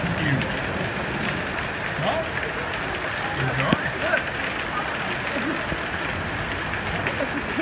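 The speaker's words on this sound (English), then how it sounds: "And the hail is probably 3/8 of an inch to a 1/2 inch." Large hail, roughly three-eighths to half an inch, pounds a cover on a road trip stop, making a dense, steady roar of rapid impacts, like heavy rain, throughout.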